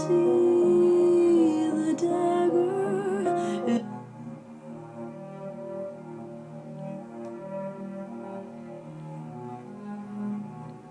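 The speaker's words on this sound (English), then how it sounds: "you have this nice bed of strings to aid in that arrival home" Sustained orchestral string bed under a song arrangement, with several cello lines gently arpeggiating the chords; denser, brighter opening gives way after a few seconds to a softer, steady, warm string texture.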